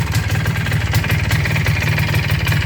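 An MZ ES 250/2 Trophy motorcycle engine idles steadily up close after restoration, a low rhythmic chugging with a faint mechanical knock running throughout.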